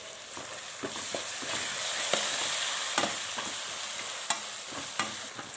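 Onions fry in hot oil with turmeric and ginger garlic paste for a tomato rice gojju, a continuous close sizzle with scattered spoon clicks and stirring scrapes against the pan.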